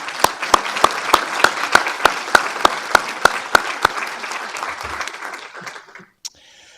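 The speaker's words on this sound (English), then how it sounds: "let's have an applause for those wonderful people" Applause from an audience at a university committee meeting honoring scholarship donors, with one nearby clapper striking loud, evenly spaced claps over a steady wash of clapping before it dies away near the end.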